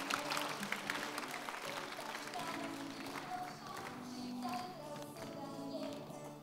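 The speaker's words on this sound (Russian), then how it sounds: "давайте еще раз дадим большие аплодисменты" An audience at a children's dedication service claps in a dense, steady patter of applause, with voices mixed in beneath the clapping throughout.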